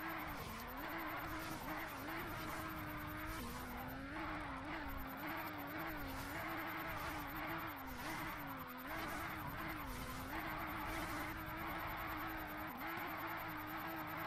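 Continuous tire squeal from a car drifting slowly in a racing video game, a loud wavering screech over steady engine drone that rises and dips throughout without a break.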